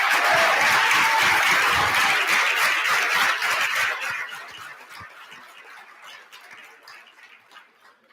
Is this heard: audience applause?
yes